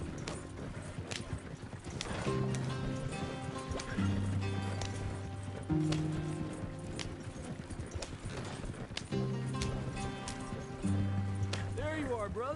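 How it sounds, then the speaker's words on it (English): Rapid clip-clop of galloping horse hooves with a snort or whinny in a PS4 video game, set under a steady music score and people talking. "You're gonna run the horses to death."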